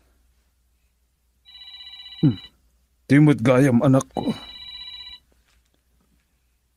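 A mobile phone ringtone rings in an Ilocano radio drama scene, a steady electronic melody that plays for a few seconds, pauses while a person speaks over it, then resumes alone before stopping.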